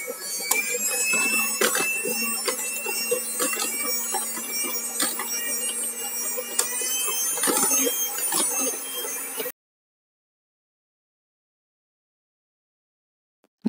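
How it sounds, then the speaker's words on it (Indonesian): An electric mixer whirring steadily while beating cake batter, a continuous close motor hum with occasional clacks of the beaters against the bowl, running for about nine seconds before stopping into silence. "Lalu kita mixer ya sampai kecepatan dari rendah ke kecepatan yang paling tinggi."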